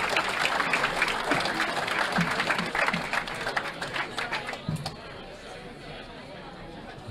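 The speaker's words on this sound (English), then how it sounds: "So see what the crowd can give him, a little boost." A crowd watching a 9-ball pool match between Efren Reyes and Mika Immonen in New York claps and chatters in a dense, steady wash of applause that fades after about five seconds, leaving a murmur.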